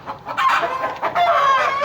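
Chickens cluck and squawk beneath a raised goat shed on a farm, several clear calls in quick succession near the listener.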